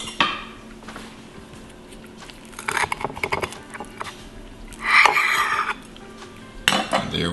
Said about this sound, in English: we're going to cut it at an angle. And I'm using a bread knife